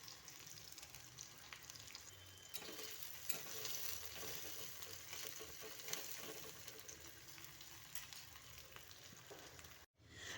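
Onions frying in a little oil in a wok, a steady close sizzle with occasional stirring scrapes, running throughout with no talk.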